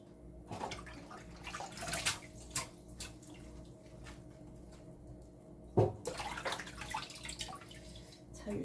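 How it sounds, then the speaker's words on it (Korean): Salted napa cabbage is rinsed by hand in a basin of water, with soft sloshing and dripping splashes in irregular bursts. The sounds are close but fairly quiet, with louder splashes near the middle and end. "소금간을 해놓은 배추를 이렇게 물에 야울야울 씻어가지고 채에 받쳐서 물기를 좀 뺄"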